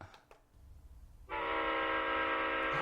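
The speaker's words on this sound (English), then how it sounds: "That is a Leslie S5T Union horn." A Leslie S5T Union train horn sounds a loud, sustained chord-like blast starting abruptly after a quiet stretch with faint clicks, held steady to the end.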